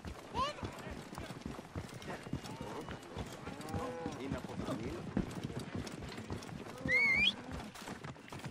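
Horse hooves clip-clop in the video game Assassin's Creed Origins, mixed with animal calls and game sounds, while a voice talks over them.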